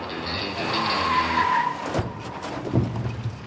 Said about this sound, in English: Jennifer is first to try the skid and swerve.